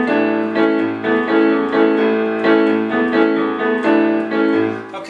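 Piano plays the guitar lick from the Searchers' song "Needles and Pins", a bright repeating figure over low bass notes with a steady rhythm; it is loud and close, with no talking.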